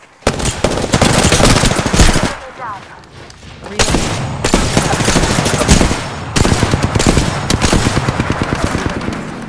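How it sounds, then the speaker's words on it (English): Loud rapid automatic gunfire from a shooter video game rattles in three long bursts separated by brief lulls, dense and close, with occasional echoing booms. "Listen up, I'm getting shot at."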